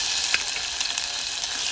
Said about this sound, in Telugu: ఇప్పుడు ఈ టమాటా ముక్కలన్నీ ఆయిల్లో వేసుకోవాలండి.